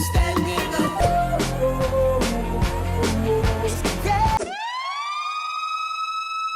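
Music track with drums and bass cuts out, leaving the Adams and Fleisner Pulsar City Alarm siren sample alone, a bright layered wail rising in pitch then holding steady, loud and clear.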